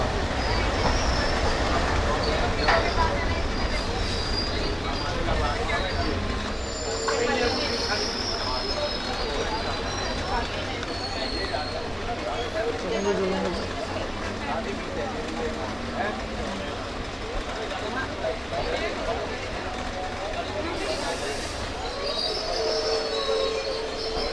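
Haridwar–Sri Ganganagar Intercity Express running on rails, a steady loud rumble of wheels on track with squealing and clatter throughout, and faint voices of passengers in the background.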